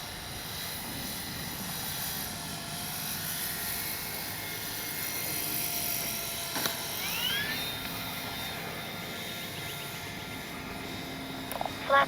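A Flightline F4U Corsair radio-controlled warbird flies a touch-and-go pass on an overcast day, its electric motor whining faintly at a distance with a rising and falling pitch as it passes.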